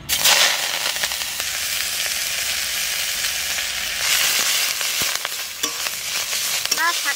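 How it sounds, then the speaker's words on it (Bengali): Greens crackle and hiss loudly in a hot wok with a little oil, a dense steady sizzle with stirring scrapes and a few sharp crackles near the end. "শাক কয়টা আগে ভেজে নেব।"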